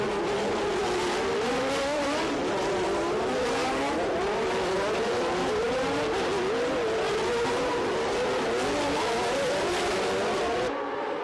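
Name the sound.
Formula One cars racing at Monaco, 1989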